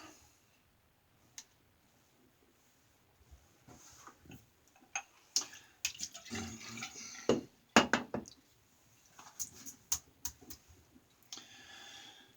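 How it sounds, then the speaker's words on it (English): Brush lathering Ethos Honeysuckle shaving soap: quiet scattered clicks and soft wet swishing that build into a busier run of brisk, close strokes and taps against the bowl, with no talking. "Let me go ahead and start lathering up a little bit here."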